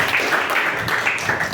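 Audience applause at a Model United Nations school session, with steady, dense clapping from a crowd that continues evenly throughout.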